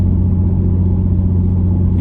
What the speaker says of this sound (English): I've got a really stupid loud exhaust on this